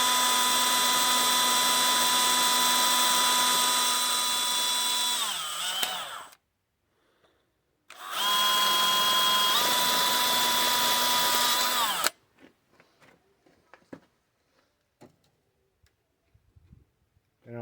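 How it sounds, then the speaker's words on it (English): A power drill bores a small hole into an oil gallery plug on a Chevy 350 engine, whining steadily for about six seconds and dropping in pitch as it ends, then running again for about four seconds, followed by faint clicks and handling noises. "Usually what I do is drill a small hole in there,"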